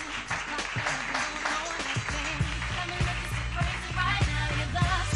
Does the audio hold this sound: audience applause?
yes